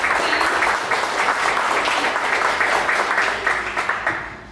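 Audience at a 1 Million Cups Dallas morning startup event gives a standing round of applause, a steady dense wash of many hands clapping close by that holds evenly and tapers slightly at the end.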